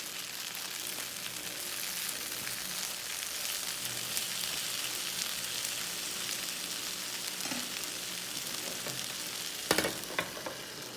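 Frozen Aldi chicken lo mein heating in a pan, a steady, fairly loud hiss and crackle of frying that runs throughout, with a few sharper clinks near the end.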